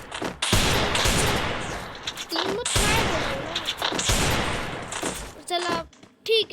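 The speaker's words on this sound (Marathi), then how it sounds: "बंदूक मारू हेडशॉट मारतो." Bursts of rapid gunfire from a shooting video game, loud sustained volleys with short pauses between them, ending in a few separate shots, with a voice speaking between the bursts.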